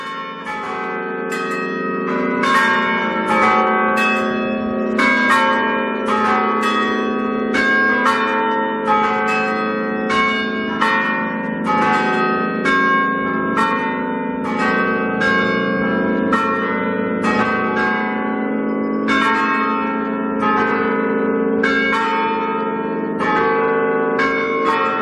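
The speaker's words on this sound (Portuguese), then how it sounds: "ouvir o badalar dos sinos enquanto a gente aprecia a bela vista da cidade de Canela" Church bells ring in the tower of Canela Cathedral, a steady series of loud, resonant strikes with long overlapping decay, continuing for about twenty-five seconds with no talking.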